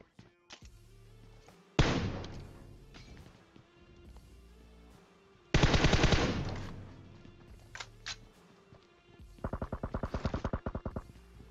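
A SCAR-L assault rifle fires in PUBG Mobile in three bursts of rapid automatic shots, the last a distinct rattling string. The shots sound moderately distant, with quieter stretches of game ambience between them.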